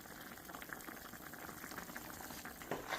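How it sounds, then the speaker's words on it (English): A pot of pasta sauce at a rolling boil gives off soft, continuous bubbling and popping, close but faint and heard with no voices. "Now, you see it's boiling."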